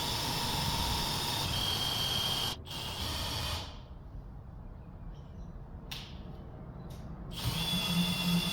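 A power drill drives a ceiling storage hoist in a small garage, a steady continuous mechanical whir with brief stops and restarts, moderately close, with no talking.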